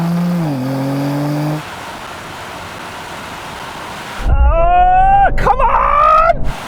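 Mercedes-AMG C63 S, BMW M3 and Audi RS4 in a drag race, with a steady engine drone giving way to loud, close revving that climbs through the gears, while a voice cheers over it.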